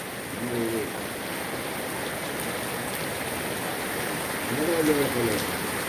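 Heavy rain pours down steadily at a church feast in Aduppootty, a dense, even hiss lasting the whole time, with faint voices briefly audible at the start and near the end.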